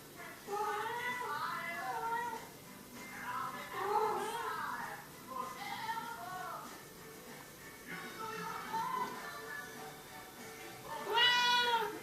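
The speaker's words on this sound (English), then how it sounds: "my cat's talking to me" A cat meows repeatedly in drawn-out, insistent calls, close by, with pauses between each cry and no talking.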